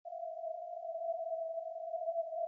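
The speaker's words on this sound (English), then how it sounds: "And here you can hear around 666 hertz" A strange, steady resonance near 666 Hz, isolated and boosted with EQ from a power metal production, hums as a single continuous tone at even loudness for the whole stretch, alone with no other sound.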